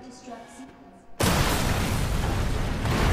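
A loud, sustained roar of explosions erupts after a quieter stretch in the Resident Evil 2 Remake final boss fight, the blast noise filling the space and continuing unbroken to the end.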